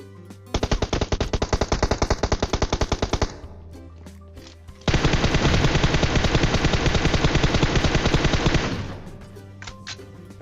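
Two long bursts of rapid automatic gunfire in PUBG Mobile, the first about three seconds, then a pause and a louder, denser four-second burst, over a low background hum.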